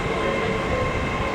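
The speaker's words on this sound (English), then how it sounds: "The Oasis train is doing the honours." A Class 801 passenger train in Oasis livery runs through York station, a loud, close, steady rumble of wheels and traction with a faint high squeal on top, heard on its own without talk.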